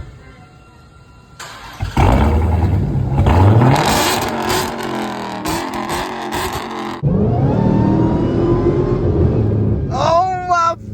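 A Dodge Hellcat with a resonator-delete exhaust starts up and revs hard in loud, close bursts, its rising and falling engine roar dominating, with a brief voice near the end.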